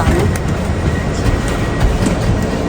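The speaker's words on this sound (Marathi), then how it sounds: "आम्ही बसलो आहोत आता ट्रेनमध्ये" Inside a moving passenger train in the UK, a continuous low rumble and rattle of the carriage with faint rhythmic clicking of wheels over the rails.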